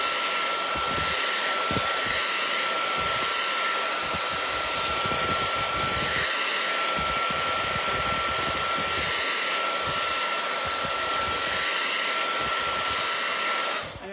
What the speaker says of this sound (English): Just hit it with a dryer.